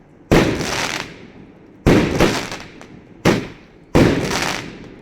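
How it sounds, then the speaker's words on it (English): Thunder King Cosmic firework shells burst in four loud, sharp booms spaced about a second and a half apart, each followed by a long crackling, hissing tail as the effects spread and fade. "Best firework in the night."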